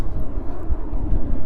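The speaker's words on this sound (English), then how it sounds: "It's one of those WestJet turboprops." Propeller-driven WestJet turboprop airliner passing overhead outdoors in winter, a steady low rumbling drone that fills the clip with mild wind buffeting and no voices.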